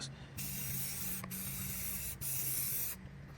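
Primer sprays from an aerosol can onto a duckbill spoiler for a 2014-2020 Mazda 6, with three sustained loud hissing bursts separated by brief pauses and no talking.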